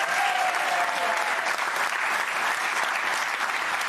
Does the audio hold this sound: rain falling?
no